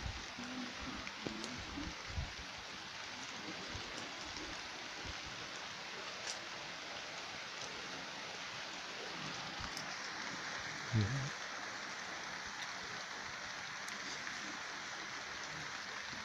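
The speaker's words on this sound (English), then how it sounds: "hear it raining" Rain falls outdoors at Knott End, a steady, fairly faint hiss of drops pattering on grass and surfaces that continues evenly throughout with no clear talk.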